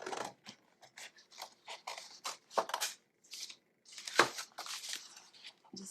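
Scissors cut out an artist trading card with a series of close, crisp snips and papery crinkles in uneven bursts, quiet and unaccompanied by talk.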